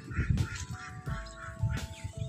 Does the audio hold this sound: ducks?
yes